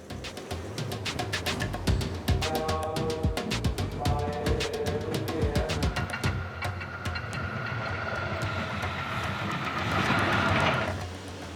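A coastal train in Sri Lanka rolls steadily along the track with rhythmic clickety-clack of the wheels over the rail joints, a continuous rumble that swells slightly near the end.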